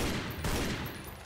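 Dense gunfire in the video game Tomb Raider: Legend, a continuous rattling fusillade of rapid shots that fills the whole moment, loud and unbroken with no gaps.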